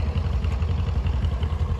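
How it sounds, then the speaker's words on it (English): A vintage David Brown 1200 tractor runs at a tractor pull during a vintage machinery rally, its engine giving a steady, close, low chugging drone with a rhythmic clatter and no voices over it. "1200 David Brown here. Very cool tractor."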